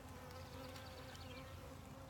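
Honey bees buzz steadily at an open hive where queen cells and new brood sit in the frames, a faint continuous drone with a few individual bees flitting near and past.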